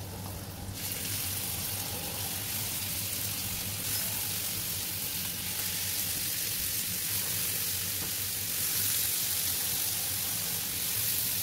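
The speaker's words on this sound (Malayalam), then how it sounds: "ഇനി ഇതിലേക്ക് ഈ ചിക്കൻ പീസസ് ആഡ് ചെയ്ത് കൊടുക്കാം." Pieces of chicken tikka hiss and sizzle on a hot tava, a dense, steady crackling fry that runs throughout, with brief shifts in intensity and no talking.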